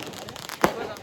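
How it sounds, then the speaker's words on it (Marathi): Firecrackers going off outdoors during a celebration, a single sharp bang standing out over faint crackling and background voices. "गाईज इकडे वेगळे फटाके चालू आहेत आणि इकडे वेगळा फटाका वाजतोय."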